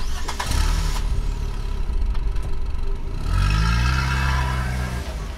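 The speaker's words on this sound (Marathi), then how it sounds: "पटापट गाडीत बसून माझी गाडी सुरू केली" A car engine cranks and catches, then idles and revs up on a highway before heavy rain, loud and close with no talking.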